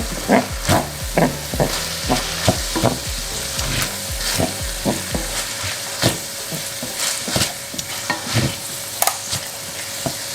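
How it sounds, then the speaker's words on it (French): Chili con carne being stirred with spices in a frying pan: a loud, steady sizzle with a series of rhythmic scraping stirs and clinks of the utensil against the pan, with no talking. "Alors, je vais déjà un peu mélanger."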